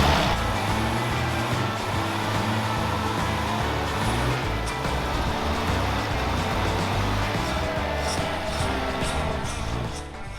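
An old Toyota four-wheel-drive truck, left sitting for 45 years, running and driving with its hubs locked in, a loud, rough, rumbling engine drone that holds steady throughout, with no talk over it.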